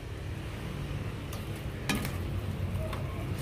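Instant pancit canton being stirred with fresh sponge gourd (patola) in a pan, giving soft scraping and clinking of utensil on metal over a low sizzle, with a couple of sharper knocks, near and unaccompanied by talk.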